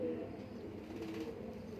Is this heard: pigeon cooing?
yes